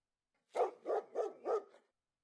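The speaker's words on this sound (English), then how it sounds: "How did a dog get past the gates?" A dog barking four times in an even rhythm, moderately close but fairly quiet, alone against silence.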